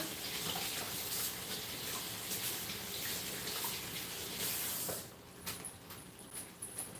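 Tap water running steadily as green onions are rinsed, a continuous hissing splash that stops abruptly near the end, followed by a few faint drips and clinks.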